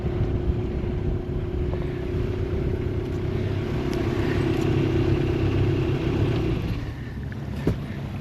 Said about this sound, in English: we're under sail, so I'm going to shut the engine down